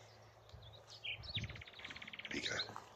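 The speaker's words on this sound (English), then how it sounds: "The nightingale's just started to sing again." A nightingale sings outdoors in a local nature spot, with rapid repeated chirps and trilled phrases at moderate distance, fairly faint against a low steady background hum.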